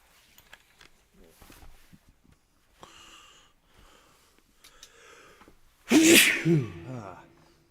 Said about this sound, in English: That was a live sneeze.